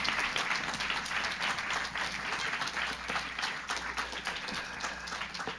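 A stage audience applauds as a guest is welcomed onstage at a Revolutionary Love Tour event, steady dense clapping filling the room for several seconds with no talking over it.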